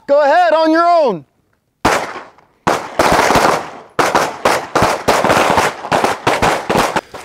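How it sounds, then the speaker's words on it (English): Pistol shots ring out on an outdoor shooting range during a ten-shot marksmanship drill, a string of sharp loud cracks in an uneven rhythm after a brief spoken command. "So take the time to make 10 good shots."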